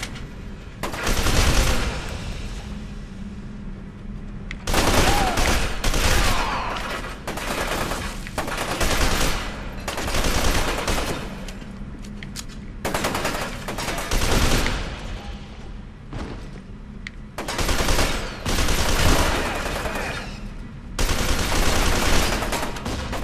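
An assault rifle in F.E.A.R. 2 rattles off loud bursts of automatic fire separated by short pauses, repeating about half a dozen times with no talking.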